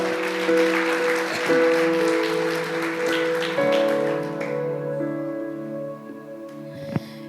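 Congregation applauding at a Portuguese-language church service, steady clapping over sustained organ or keyboard chords, fading gradually toward the end.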